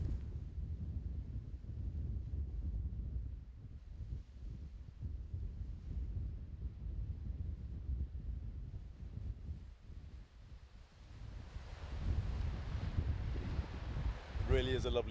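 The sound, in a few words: wind blowing outdoors in Dorset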